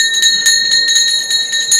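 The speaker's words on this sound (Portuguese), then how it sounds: "Eu quero tocar o sino também" A bell rings in a steady series of bright, ringing strikes, loud and close, each tone sustaining into the next with no talk over it.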